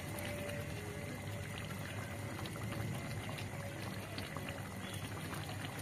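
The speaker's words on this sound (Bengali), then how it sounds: "দেখো সুন্দর চারিদিকে বেশ ভালো করে ফুটতে শুরু করে দিয়েছে" A pan of fish curry with lata fish bubbles steadily at a rolling boil, a continuous close hiss and gurgle that stays even throughout with no voices.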